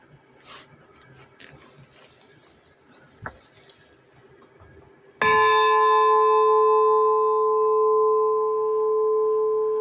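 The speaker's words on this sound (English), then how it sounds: "now you can hear the peace bell" A peace bell is struck once, with a sharp, loud onset followed by a long, steady ringing hum that slowly fades; quiet outdoor ambience precedes the strike.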